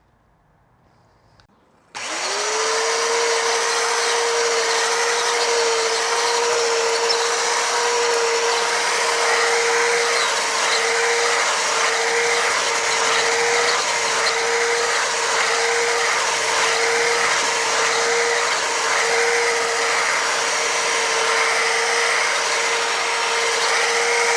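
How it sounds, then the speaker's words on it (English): A hedge trimmer in a front garden starts after a brief quiet moment, then runs loud and steady with a continuous motor whine for the rest of the time, with no talking. "this is a hedge trimmer. So this trims or cuts the hedge"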